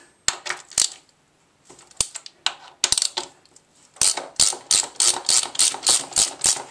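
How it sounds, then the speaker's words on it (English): Motorcycle front brake caliper removal gives a run of sharp metallic ratchet clicks and clacks from a wrench. Loose bursts come first, then a steady rhythmic ratcheting, loud and close. "Now, next job is take the caliper off and take the pads out."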